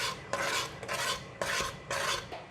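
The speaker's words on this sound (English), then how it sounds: "and give it a stir" Leek and potato soup with whipping cream stirred in a pot, a spoon rasping and scraping against the metal in four or five steady strokes, close and fairly quiet with no voices.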